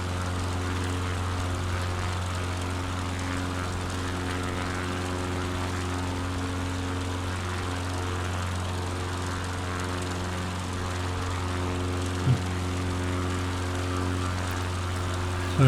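Steady drone of a bush plane's propeller engine in Microsoft Flight Simulator 2020 during a Finland bush trip, constant and loud with a low hum throughout and one faint brief click near the end.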